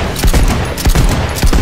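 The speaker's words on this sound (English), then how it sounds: "I didn't know this was a shotgun." Rapid gunfire from a shotgun in the video game Cyberpunk 2077, several loud close blasts in quick succession over under two seconds.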